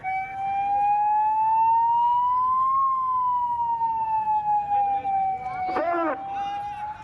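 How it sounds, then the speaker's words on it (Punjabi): A loud wailing ambulance siren sweeps slowly up and down close by on a flyover in Fazilka, with a short burst of rapid yelping warble near the end. "ਐਂਬੂਲੈਂਸ ਨੂੰ ਰਸਤਾ ਦੇ ਦਿਓ ਥੋੜਾ ਜਿਹਾ ਐਂਬੂਲੈਂਸ ਰਸਤਾ ਦੇ ਦਿਓ"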